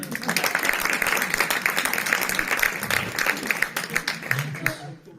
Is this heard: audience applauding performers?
yes